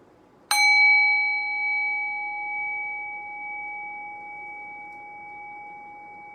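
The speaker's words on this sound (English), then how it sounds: "Rest your awareness on the sound of the bell. Allow the decay of the bell to guide your mind into silence." A meditation bell, likened to a singing bowl, rings once with a sharp strike, then hums in clear sustained tones that slowly fade over several seconds in near silence.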